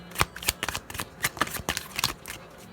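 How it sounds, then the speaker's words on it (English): Tarot-style cards riffled and shuffled by hand in quick, crisp bursts of papery slaps, close and fairly loud, with no talking. "Let me go ahead and pull some of my EXO cards."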